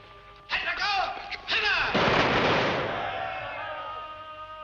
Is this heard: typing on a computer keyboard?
no